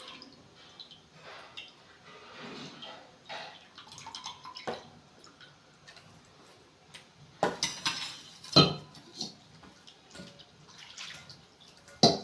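Tamarind water for brinjal kuzhambu strained in a kitchen, with intermittent trickling and splashing liquid and scattered clinks of a vessel and strainer, close and unhurried with no talk.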